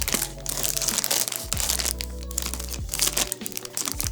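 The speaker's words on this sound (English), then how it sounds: "Cut into the packaging." Crinkling plastic packaging of Old Wisconsin beef snack sticks being cut open, with a steady run of close, loud crackles and rustles that come in bursts.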